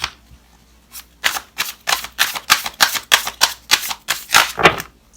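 Rapid rhythmic riffling of tarot cards, a dense burst of crisp flicking clicks after a brief quiet start, close and fairly loud.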